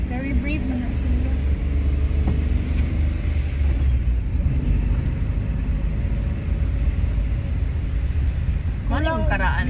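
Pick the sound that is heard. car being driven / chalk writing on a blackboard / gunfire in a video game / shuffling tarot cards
car being driven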